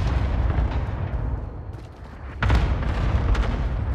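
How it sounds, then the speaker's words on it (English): Cluster strike explosions boom and rumble through a battle royale match, a dense run of heavy low blasts that swells sharply about midway and keeps rolling to the end. "Allied cluster strike inbound"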